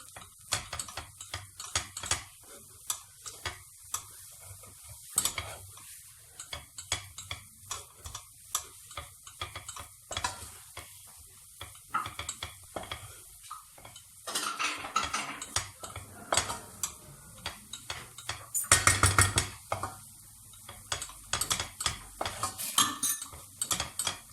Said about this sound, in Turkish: Şöyle 2-3 dakika kavuracağız.